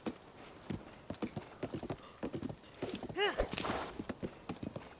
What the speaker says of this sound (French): Et on a un cheval.